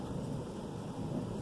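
Distant thunder gives a low, faint, rolling rumble that holds steady for a moment and is heard alone.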